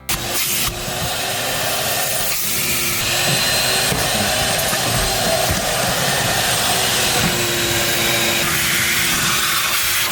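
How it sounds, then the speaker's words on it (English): A loud, steady vacuum cleaner drone runs continuously inside a car interior, with slight shifts in pitch as the nozzle moves around. "We need to vacuum this car out and scrub it from top to bottom"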